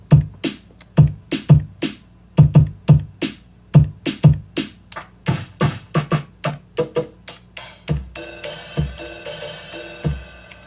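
A Teenage Engineering KO II sampler stepping through its Bank A sounds: a series of punchy, close drum-like hits in a loose rhythm, ending on a brighter, noisier sustained sample, with no one talking.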